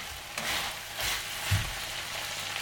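Meat and potatoes fry in a cast iron pot, a close sizzle punctuated by scraping stir strokes against the bottom at about one-second intervals, with no voices.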